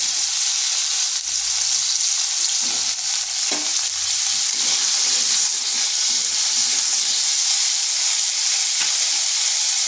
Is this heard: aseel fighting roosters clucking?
no